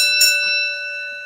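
A single bright bell chime struck once, its clear ringing tone sustaining and slowly fading over a second, alone with no talk.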